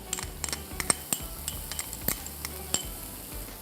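Chopped garlic frying with chopped onion in a pan, a spoon or spatula scraping and clinking in quick repeated strokes over a soft, constant sizzle, close and without talk.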